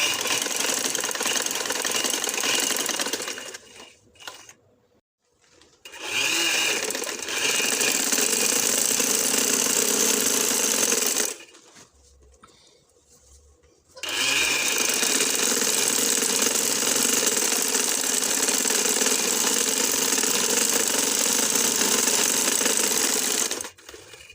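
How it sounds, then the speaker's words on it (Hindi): A sewing machine stitching the edges of an organza shirt lining, running in long steady bursts with two clear pauses between them, loud and close, with no talking. "इसके किनारों पे मैं पहले इसको सिलाई लगाऊंगी ताकि ये किनारे सही तरीके से जुड़ जाएं, स्टिच हो जाएं"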